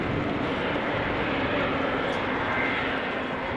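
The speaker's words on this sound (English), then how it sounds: "more sounds emanating from over there. Airplanes on the move. What is this? It is a 777." A Boeing 777 jet at Amsterdam Schiphol Airport, a loud continuous engine roar with a broad rumbling hiss that holds steady throughout.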